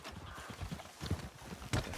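Horse hooves clip-clopping at a walk in the Red Dead Redemption 2 video game, a fairly close, steady run of hoof knocks with a few louder thuds over faint background noise.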